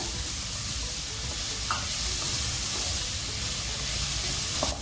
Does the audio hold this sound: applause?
no